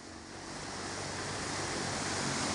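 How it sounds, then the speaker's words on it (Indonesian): Flash flood water in Gondang, Bojonegoro, rushing strongly, a loud, dense, unbroken roar of churning water that swells slightly over a few seconds, with no talk. "Sampai sekarang pun airnya masih kencang."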